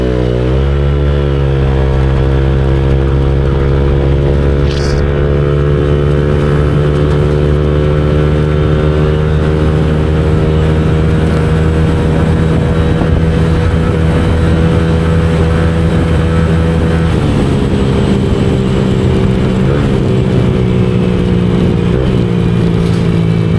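A Honda Click scooter with a 59mm bore-up kit accelerates hard along a highway, its engine droning loud and close with a steady, rising tone, a brief shift in pitch partway through, and steady wind and road noise with no talk.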